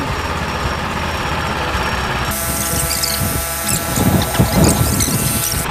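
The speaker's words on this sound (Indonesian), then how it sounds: "Tutorial cara memasang padi di mesin tanam." A rice transplanter machine running in a paddy field, a continuous mechanical engine drone with rattling and clicking of the planting mechanism, growing busier and louder toward the end, with no talking.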